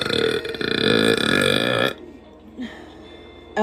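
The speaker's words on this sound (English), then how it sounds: "Sorry about my burps," A woman lets out a long, deep, drawn-out burp, loud and close, followed by quieter room sound and a small gulp.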